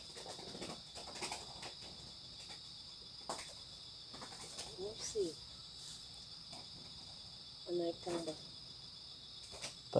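A small bird flaps its wings in short bursts inside an old house at night, against a steady insect-like hiss, with brief scuffling flutters standing out near the middle and end.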